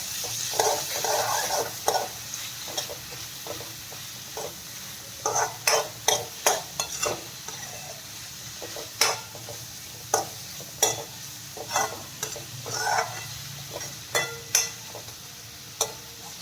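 Red and green capsicum stirred in a pan, a gentle sizzle underneath repeated sharp spoon clicks and scrapes against the metal, irregular strokes in bursts, fairly quiet and close, with no talking.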